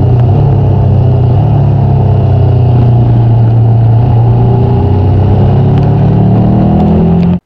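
A 2022 Triumph Tiger 1200 GT Pro three-cylinder motorcycle being ridden, a loud continuous engine drone with slowly rising and falling pitch, close and steady with wind rush, no talking.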